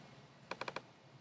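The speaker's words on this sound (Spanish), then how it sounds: "empieza a tipear" Four quick, close keystrokes on a computer keyboard, evenly spaced taps in a short burst over a faint background hiss.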